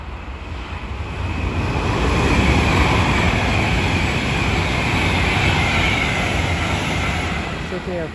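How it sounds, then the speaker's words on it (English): An Avanti West Coast Class 390 electric train passing through Milton Keynes Central station on the West Coast Main Line makes a loud, sustained rushing roar that swells and holds for several seconds before easing slightly. "our final train of the day will be Avanti West Coast service passing from London Euston to Birmingham"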